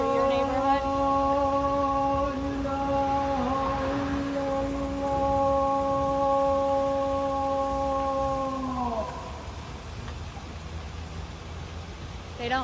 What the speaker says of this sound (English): This is the call of prayer that goes off 5 times a day